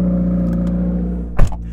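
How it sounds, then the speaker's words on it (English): A Subaru WRX with no boost idles with a steady low drone and a weird whirring tone, then a brief thump or clunk near the end. "The exhaust sounds great, but there's the weird whirring noise, and that's worrying."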